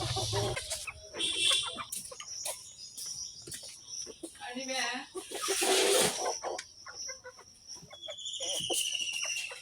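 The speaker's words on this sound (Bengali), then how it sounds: "এই তো দেখুন আমার মোরগ মুরগিরা কত সুন্দরভাবে খাচ্ছে" Hens and roosters cluck and squawk close by, with bird chirps and background voices, busy and irregular as the flock feeds.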